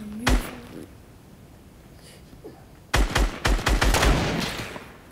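Rapid bursts of gunfire from the video game Fortnite: a single sharp shot near the start, then a dense run of loud, close shots in quick succession filling the final two seconds.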